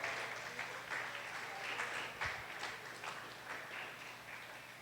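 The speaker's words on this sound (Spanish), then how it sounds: "Dele ese aplauso a Jesús el Señor" A church congregation claps for Jesus during a Spanish-language service, producing a steady wash of moderately loud applause that rises and falls gently throughout, with no talk.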